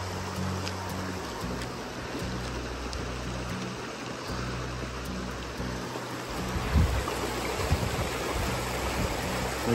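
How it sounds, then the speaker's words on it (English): A glacier-fed creek rushes where it meets the Columbia River, a steady, close, broadband flowing-water roar that continues throughout with a low rumble underneath. "This is right where the Blue Water Creek, for obvious reasons, meets up with the Columbia River."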